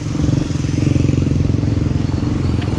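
A motorcycle on a road to Dhading near Kathmandu, its engine thrumming close and loud with a steady pulsing beat and light clatter throughout.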